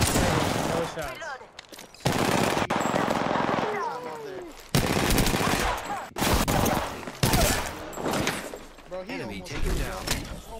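Bursts of rapid automatic gunfire in a shooter video game, loud and close, coming in several separate volleys with short gaps. Players talk over the shooting.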